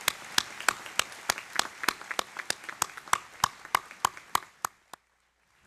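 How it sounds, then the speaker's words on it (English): Applause for a choir at the Hanover College 2010 commencement comes through as crisp, evenly spaced claps from only a few close hands, keeping a steady beat before stopping abruptly near the end. "Let's give the choir a round of applause."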